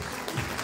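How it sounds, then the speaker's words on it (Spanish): Brief applause from the audience at a university graduation ceremony as a new graduate is honoured, a soft, steady wash of distant clapping. "Los aplausos para ella"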